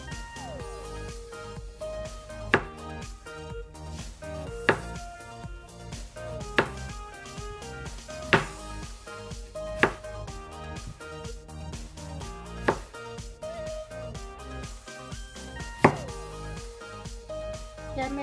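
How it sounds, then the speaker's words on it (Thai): A knife cuts through ripe durian into thin slices in sharp, evenly spaced strokes, about one every two seconds, with background music playing underneath. "หั่นเป็นแผ่นบางๆค่ะ"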